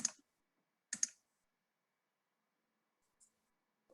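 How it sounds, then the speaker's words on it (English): A few soft, isolated clicks of fingers pressing calculator keys during an online maths lesson, two quick taps close together and then a fainter tap, with near silence in between. "give a second for everyone to try typing that into the calculator"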